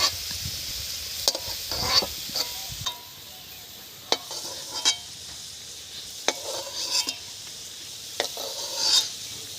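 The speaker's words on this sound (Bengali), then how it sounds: "আলু ভাজা হয়ে গেছে পুরোপুরি," Fried potato pieces sizzle softly in hot oil while a spatula scrapes and lifts them from the pan in several short, sharp scrapes and clinks, close up.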